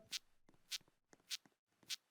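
Slow, shuffling footsteps of the grandmother approaching in the video game Grumpy Gran: four soft, evenly spaced steps with scuffing between them, faint and close, with no talk over them.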